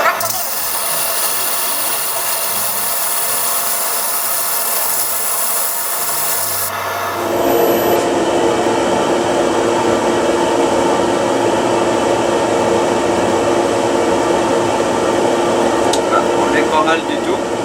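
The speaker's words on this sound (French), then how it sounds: "on va mettre un petit peu d'aspiration" Dust extraction vacuum switched on partway through, a steady broadband rush filling the background alongside faint rubbing while a wooden pen is sanded.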